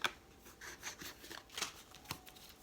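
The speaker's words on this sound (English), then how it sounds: "Needs to be a clean shuffle, please." Soft, uneven rustling and flicking of tarot cards being shuffled by hand, several quick riffles close by in an otherwise quiet room.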